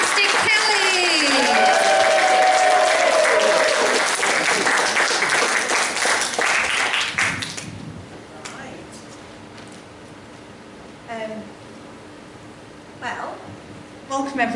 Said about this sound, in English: start clapping, start clapping, start clapping